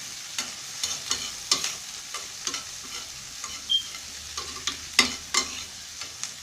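Spicy mixture for cooking red herring stirred in a hot frying pan: repeated scraping strokes of a utensil over steady sizzling, close and fairly quiet, with no talking.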